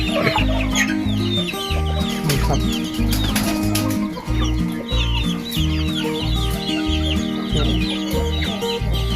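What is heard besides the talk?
chickens clucking at feeding time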